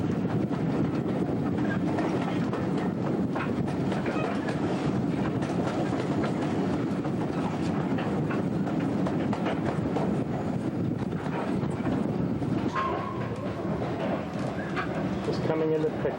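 A steam train on the North York Moors Railway crawls into Pickering station, a steady rumble and rolling clatter of carriages with wind buffeting the microphone throughout.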